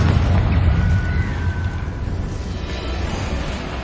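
Confringo spell blasts in Hogwarts Legacy, a dense, loud rumbling burst of fiery noise that holds steady and then eases slightly toward the end, with no talking.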